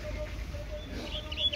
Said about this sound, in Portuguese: Rapaziada, chegou mais um pássaro aqui.